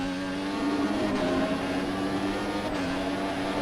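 A Toro Rosso Formula 1 car from the F1 2014 racing game hums steadily at moderate revs on a Monaco out lap, with a constant high engine whine and two brief gear-shift dips, no voices.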